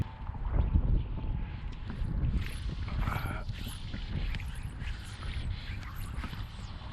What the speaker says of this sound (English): It's windy though, so we're gonna get in the mangroves to stay out of the wind.